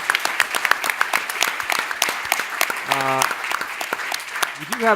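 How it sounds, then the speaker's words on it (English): Audience applause for the semifinalists at a new-beverage pitch showdown, a steady wash of many hands clapping close by, with a voice cutting in briefly near the end. "Big round of applause for our semifinalists."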